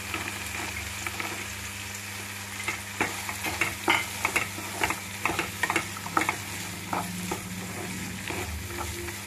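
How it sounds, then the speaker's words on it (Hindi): Fresh peas go into a pan of softened, frying tomatoes. Steady close sizzling sits under a run of irregular scraping stirring strokes, with no voices. "अब मटर देखिए, हम फ्रेश मटर लिए हैं, इसे भी डाल दे रहे हैं।"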